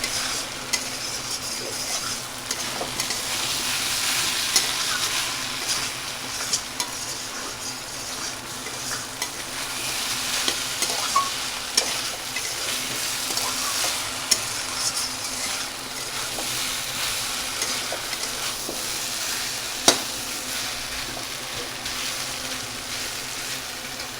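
Continuous sizzling of diced coconut frying in a pan with scraping stir strokes and occasional clicks of a utensil against metal, close and steady, no voices.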